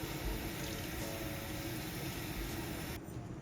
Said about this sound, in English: So we're going to put 10 ounces of water in here.